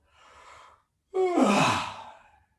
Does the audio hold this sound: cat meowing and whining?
no